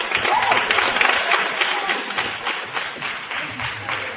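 An audience at a live debate on affirmative action claps steadily, a dense, moderately loud patter of many hands that holds for several seconds with faint voices beneath it.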